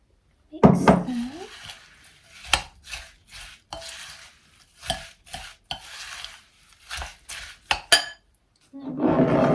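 Ingredients for superfood chocolate bites are mixed in a bowl, with irregular spoon clinks, knocks and scrapes in short bursts separated by quiet pauses, close and fairly loud.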